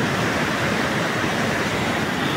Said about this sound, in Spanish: Este es el río Sumapaz en el paso por el municipio de Cabrera, Cundinamarca.